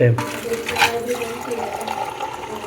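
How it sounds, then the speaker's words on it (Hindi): A tap runs water indoors in a home, a steady close splashing flow that stops partway through, leaving a softer trickle, with voices talking over it. "ये भी थोड़ा सा पानी खोल दिया, फिर इसको यहाँ बंद कर दिया"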